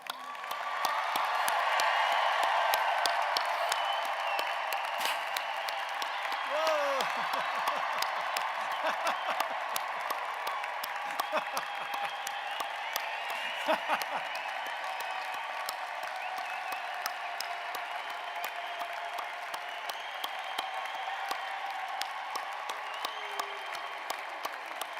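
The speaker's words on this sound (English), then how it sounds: "would you join me in recognizing the accomplishments of the class of 2023, the world's newest veterinarians, with a thunderous round of applause" Sustained, dense applause from a large crowd at a university commencement for newly graduated veterinarians, with scattered cheers and whoops, loud and steady throughout.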